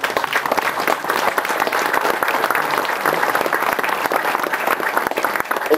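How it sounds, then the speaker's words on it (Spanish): A church congregation in a Mexican community claps at a pilgrimage celebration, steady dense applause filling the space at full volume throughout, with no break. "¡Ese aplauso, hermano!"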